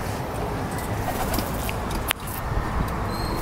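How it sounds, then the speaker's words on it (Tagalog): Caged pigeons coo softly and steadily under strong wind noise, with a brief knock partway through. "Ito yung mga kalapate natin."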